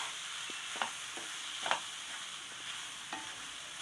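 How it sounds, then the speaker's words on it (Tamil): Chilli garlic rice being stirred in a pan, a quiet, continuous sizzle with a few faint, widely spaced scrapes of the spoon and no voices. "இப்போ இதையும் சேர்த்து நம்ம நல்லா கிளறி விட்டுடலாம்"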